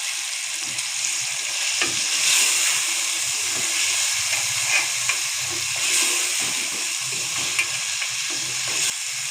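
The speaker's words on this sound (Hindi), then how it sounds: "टमाटर हमारे जब तक सॉफ्ट नहीं होते इसको हम भून लेंगे।" Tomatoes sizzling with minced keema in a hot pan for khara masala keema, a steady bright frying hiss broken by the scrape and clatter of stirring.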